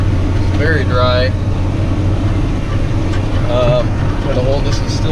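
A farm tractor engine runs steadily while planting corn on dry, dusty ground that was ripped last year, a constant low drone that continues throughout, with a person talking over it.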